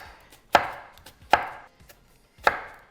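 Three sharp, close knife chops on an onion land on a cutting board at irregular intervals, each a crisp thud with a short crackle, separated by quiet gaps.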